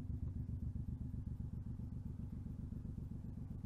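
Suzuki M109R cruiser motorcycle riding along, a steady low, throbbing engine rumble with dense rhythmic pulsing, loud and close, continuous throughout with no talking.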